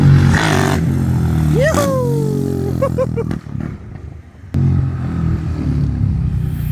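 A Twister engine bored to 86mm and fitted to a Riva 500R motorcycle revs up close and loud, with a rising and falling engine note, a brief drop to idle, then the rough rumble returning.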